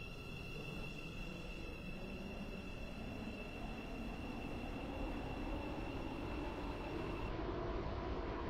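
A Roblox train rumbles along steadily with a constant high whine over the low noise, running without pause.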